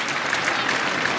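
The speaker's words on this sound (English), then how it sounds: "I wonder what the crowd are applauding." Cricket crowd at a 2019 Ashes Test match applauding steadily, a dense, even wash of clapping from a large stadium audience, sustained throughout without pause.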